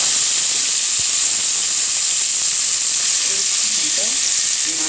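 Meal maker soya chunks frying in a pan with fenugreek leaves give off a steady, close sizzling hiss with a few faint stirring touches, and no one speaks.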